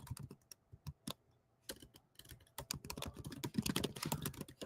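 Rapid clacking keystrokes on a computer keyboard, sparse taps at first and then building into dense continuous typing, close and fairly quiet with no voices.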